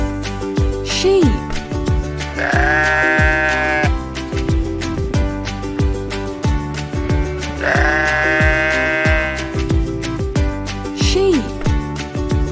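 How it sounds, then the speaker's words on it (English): A sheep bleats twice in wavering, drawn-out calls, close and clear, over a repetitive musical beat. "Sheep."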